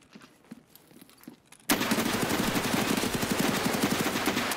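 Rapid automatic gunfire from a driving video game suddenly erupts after a quiet stretch and keeps up as a loud, dense, continuous stream of shots, with no speech.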